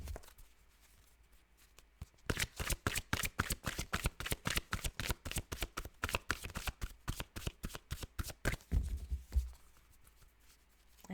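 Tarot cards shuffled by hand for a monthly reading, a long run of rapid riffling flicks that sounds close and steady, with quieter handling before and after and no talking.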